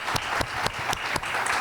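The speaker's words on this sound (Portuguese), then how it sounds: "Eu vou pedir primeiro uma salva de palmas para os dois que vieram aqui com a gente." A small audience at a panel of specialists claps for the two panelists, with a handful of distinct, fairly sharp claps spaced out over a soft, continuous patter of applause.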